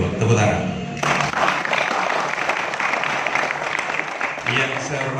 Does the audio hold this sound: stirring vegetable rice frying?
no